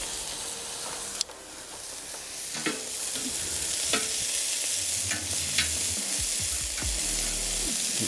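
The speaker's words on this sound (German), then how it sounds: "Dann nehme ich sie wieder runter und lasse die Kartoffeln weiter braten." Potatoes fry steadily in a pan for bratkartoffeln, a continuous close sizzle broken by a few clinks and scrapes of a utensil stirring, with no talk.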